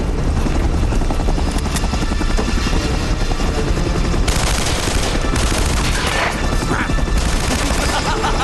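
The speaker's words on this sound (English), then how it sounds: "They leave by helicopter" Helicopter rotor thrum in the video game Uncharted: Drake's Fortune, loud and continuous throughout, mixed with bursts of gunfire and crashing action sounds.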